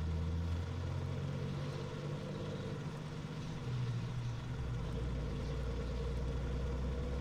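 Tractor engine in the Farming Simulator 19 video game mod, a steady low diesel drone with a deep rumble that shifts pitch slightly midway, continuous and close with no talk.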